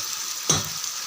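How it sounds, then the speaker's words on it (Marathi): Onions fry in a pan for karela sabzi with a quiet steady sizzle, broken once by a single sharp utensil clink midway. "थोडं ब्राऊन कलर होईपर्यंत या कांद्यांना तळू देऊ"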